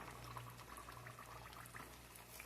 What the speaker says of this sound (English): these are frying up. We didn't get a lot of popping there,